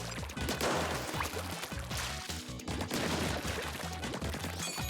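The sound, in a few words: shooting at a shooting range in Splatoon 3 video game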